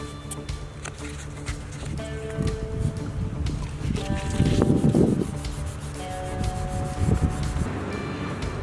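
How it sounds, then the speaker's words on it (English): A car panel is wet sanded by hand with 2000 grit sandpaper to level a ridge, giving a continuous close rubbing hiss with strokes that swell and fade in a steady back-and-forth rhythm, with no talking. "now I'm wet sanding the ridge that it left to get it down level with the rest of the panel"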